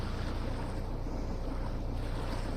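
Steady aircraft engine drone in FlightGear, a continuous low rumble with broad wind-like noise, holding at a constant level throughout with no talking.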